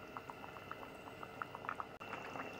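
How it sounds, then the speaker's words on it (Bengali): Gandal-leaf curry with rohu fish bubbling in a pot, a steady close simmer of small popping bubbles and soft blips throughout, quiet and continuous with no voices. "মাছটা দিয়ে ঝোলটা আরেকটু ফুটিয়ে নেবো"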